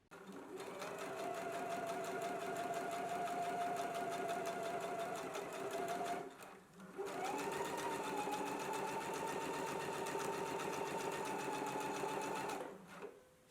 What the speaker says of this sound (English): we will baste close to the inner edge again, but make sure that you stop about 5 inches before you get all the way down to the bottom of the dress